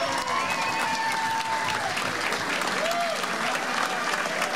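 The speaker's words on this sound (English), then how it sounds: "Big round of applause for Jim Brady, our" Steady, dense applause from a large crowd at a governor-elect's election-night victory speech, sustained and fairly distant throughout without a break.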